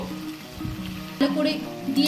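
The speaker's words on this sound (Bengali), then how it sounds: "ভাজা মশলা দিয়ে আমি আবার ভালো করে নেড়ে চেড়ে নেব" Chicken with fried spices sizzles loudly in a pan as it is stirred, giving a close, crackling hiss with scraping stirs, while a voice speaks faintly underneath.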